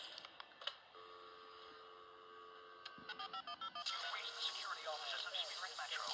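A Spirit Halloween animatronic telephone prop gives off electronic tones and beeps, then a burst of busy, crackling sound, faint and heard without talk over it.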